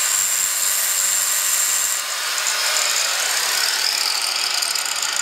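A power tool makes a straight cut for radiator fan clearance while an Integra slave cylinder is fitted to an H22A engine. It gives a loud, continuous high-pitched grinding whine close by that holds steady for the whole stretch.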